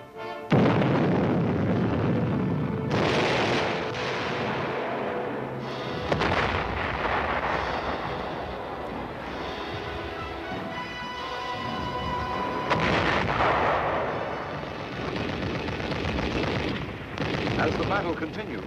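Guided missiles fired and exploding in battle, rendered as loud rumbling booms and blasts that come in repeated surges across the clip, heavy and dense throughout.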